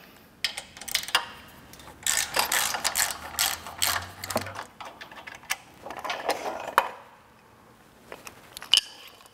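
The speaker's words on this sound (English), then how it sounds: "Now we're going to remove these three bolts from the tongue jack so we can remove it from the frame." Bolts being removed from the tongue jack on a travel trailer frame, with bursts of ratcheting clicks and metallic mechanism noises close by, coming in several uneven runs separated by short pauses.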